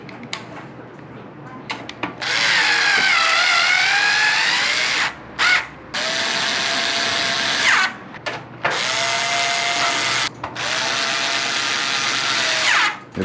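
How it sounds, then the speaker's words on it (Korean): A power screwdriver drives hex standoff screws into a PC case during computer assembly, whirring loudly and steadily in four long runs separated by brief pauses, with close, clear mechanical tone. "이렇게 보이시면 이 네 부분에 나사가 맞게 아까 말씀드린 육각 나사, 얘를 사용해서 조립을 합니다."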